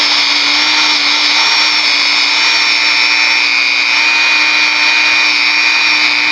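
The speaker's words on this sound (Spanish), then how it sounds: "Y volvemos a pulir." A polishing tool runs at a steady high-pitched whine while working a part of a two-needle flat sewing machine, loud and unbroken throughout with no talk.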